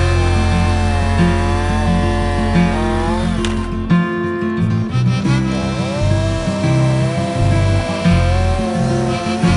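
A Husqvarna chainsaw with TrioBrake cuts using the tip of its bar, the engine droning loud and steady, its pitch dipping and rising as the chain bites into wood.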